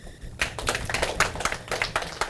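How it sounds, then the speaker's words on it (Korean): Congregation clapping at a church retreat, a rapid run of many sharp hand claps from a group, fairly close and steady, beginning after a brief quiet lead-in with no voices. "자, 우리 박수."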